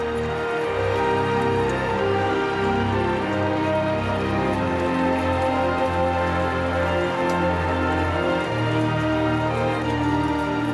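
Heavy rain pouring during the Queen's procession, a dense continuous hiss of rain on surfaces heard steadily throughout, with no talk.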